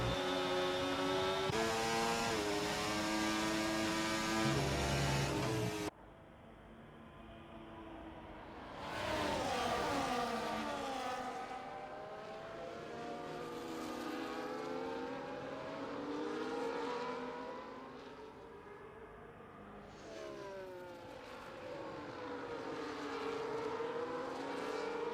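Race car engines roar and whine through gear shifts in an F1 video game race at Qatar as a Ferrari is overtaken three wide into turn one, several cars passing close with rising and falling pitch, loud and continuous.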